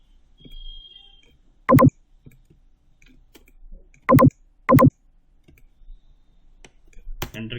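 Computer keys are pressed, including Enter, during 3D modeling work: a few sharp, isolated clicks spaced seconds apart in a quiet room, with faint background murmur between them.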